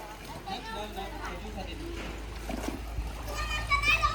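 Children splash while bathing in water at a family farmhouse outing, with bursts of splashing mixed among kids' voices and chatter throughout.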